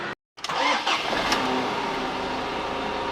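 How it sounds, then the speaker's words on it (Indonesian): A Ford Ranger XLT pickup's engine cranks and catches after a brief silence, then settles into a loud, close, steady idle that holds to the end. "ini mesinnya ya halus banget nih"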